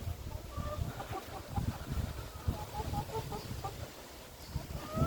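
Pigeons kept in a small dovecote, including gray and yellow birds, give scattered short calls over a steady low rustling and cooing murmur, close by and moderately quiet.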